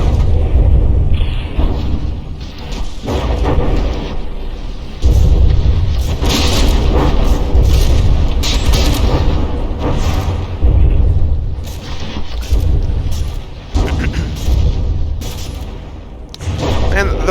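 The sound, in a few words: APS gun firing at battleships in video game From the Depths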